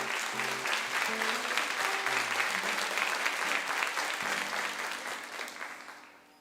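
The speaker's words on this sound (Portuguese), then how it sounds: "beija a sua Bíblia e aplauda a palavra de Deus." Congregation at a Catholic Mass clapping for the word of God after the Gospel reading: broad, sustained applause from many people, even and continuous, with organ or keyboard notes sounding underneath, tapering off at the close.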